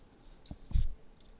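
A few soft clicks while a password is typed on a computer, scattered taps with one firmer click in the middle, close and quiet with no talking.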